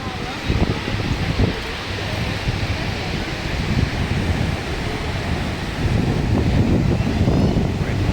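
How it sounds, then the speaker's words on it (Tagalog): Steady wind buffets the microphone while surf rolls and washes in the background at Station 1 beach on Boracay, Philippines, a continuous rushing roar throughout. "Medyo humina yung hangin saka yung alon, hindi na siya ganoon kalakas"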